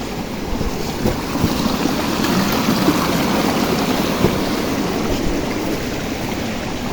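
Rushing mountain stream water below a waterfall damaged by a landslide, with snow around; a steady, dense broadband roar that continues evenly and close throughout, with wind buffeting the microphone.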